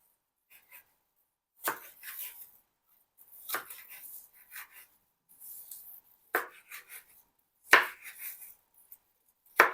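A knife chops and slices chili peppers lengthwise on a cutting board in several irregular bursts of short crisp cuts, close and fairly quiet, with pauses between.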